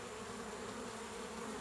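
Honeybees buzz steadily around a hive as foragers bring in pollen, a continuous close, even drone with no talking.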